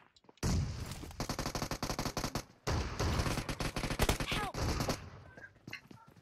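Shotgun fire in the Free Fire video game, rapid repeated blasts in dense bursts, loud and close, with a brief gap between two volleys.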